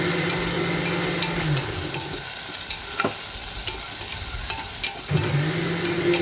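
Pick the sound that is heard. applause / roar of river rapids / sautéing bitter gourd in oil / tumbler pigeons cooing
sautéing bitter gourd in oil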